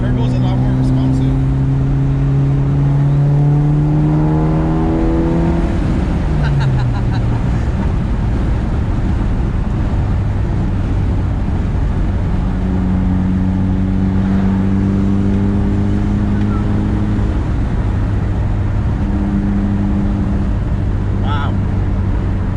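A turbocharged 2006 Mitsubishi Evolution revs and climbs through the gears, loud and close, with the pitch rising, dropping at each shift, then rising again, as someone talks.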